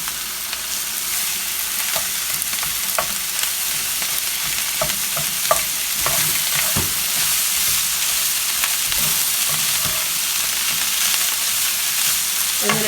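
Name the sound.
collards frying in pork loin pan juices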